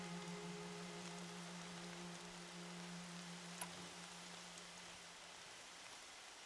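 Steady rain hisses softly in Horizon Zero Dawn, a quiet, even wash of falling drops with a faint low hum underneath and one brief tick partway through; no voices are heard.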